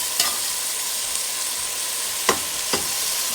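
Crushed garlic and beef sizzle steadily in a soup pot, with a few sharp scrapes of stirring cutting through the constant hiss.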